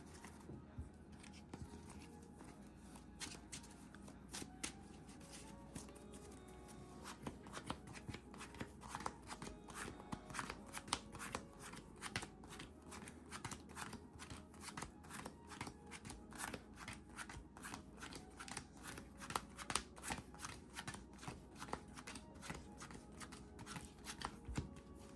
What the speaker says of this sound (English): Cut the deck.